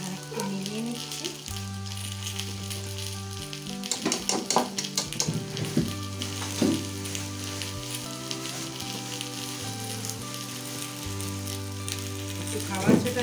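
A potato pizza mixture sizzles and fries in a pan while being stirred, a steady crackling bed broken by scraping strokes and a low hum underneath, with no voice heard.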